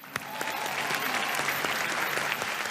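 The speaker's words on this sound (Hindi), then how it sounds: "तालियां।" A crowd at an awards show breaks into steady, moderately loud applause, with dense, even clapping and a few sharper claps standing out throughout.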